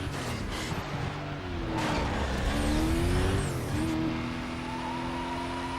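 V12 Aston Martin race car engine in Need for Speed: Most Wanted, a rising, shifting engine whine climbing through gears with brief tire squeal, loud and close, peaking midway.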